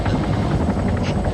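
A helicopter rotor in a video game throbs steadily in a brief, continuous rhythmic chop, moderately loud, with no voices over it.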